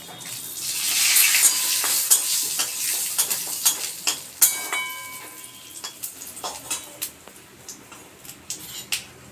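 Cumin seeds, bay leaf pieces and cinnamon dropped into hot oil, starting with a loud burst of hissing that eases into crackles and irregular pops and spoon clicks, close and clear.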